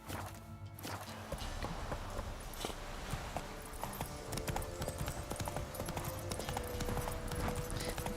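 Steady clip-clop of horse hooves walking at an even pace in The Witcher 3, fairly quiet, with a brief low tone near the start.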